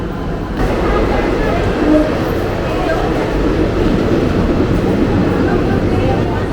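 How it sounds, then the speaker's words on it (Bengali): A passenger train pulls into a station about twenty minutes late, making a heavy steady rumble and rolling roar that fills the scene, loud and near, with people talking over it. "আমাদের ট্রেন ঢুকছে প্রায় কুড়ি মিনিট মতো লেট করে"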